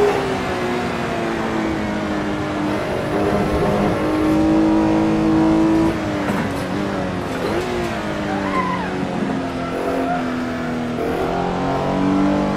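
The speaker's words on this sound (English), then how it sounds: "Beautiful sound from the Weber carburetors." A racing Porsche 911R fed by Weber carburetors snarls through a close-ratio five-speed gearbox in the GT Legends game, a loud, continuous engine note rising and dipping with gear changes, with a short tyre squeal and no voices.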